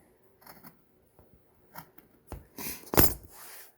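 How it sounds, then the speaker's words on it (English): Scissors trimming a fabric seam on a tote bag, producing a few soft, separate snips that build to louder, crisper cuts near the end, close up in a quiet room. "I'm making sure there's no other fabric underneath my seam that I'm cutting."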